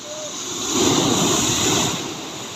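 Big ocean waves, around five to six feet, surge in at a boat landing where the boats sit low in the water; a steady roar of surf swells louder in the middle, with wind buffeting the microphone.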